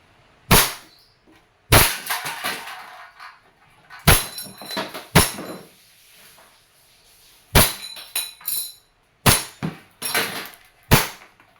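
A WE airsoft 1911 MEU pistol fires seven or eight sharp, loud single shots at irregular intervals, each crack followed by a brief metallic rattle of the slide cycling.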